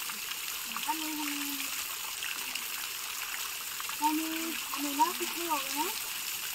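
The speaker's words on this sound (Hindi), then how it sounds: "इतना जोर से पानी वो आ रहे थे" Continuous rushing, gushing water from a waterfall fills the background while voices speak over it.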